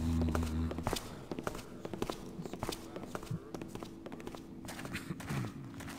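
Footsteps crunch over noisy gravel in the stealth game Thief, sounding as a series of irregular, fairly close scuffing steps with short gaps between them and faint ambient noise underneath.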